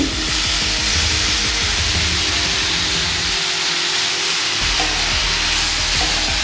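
Mushroom stew poured into a hot pan with lamb and vegetables sizzles loudly and steadily, a dense frying hiss that briefly softens before resuming at full strength.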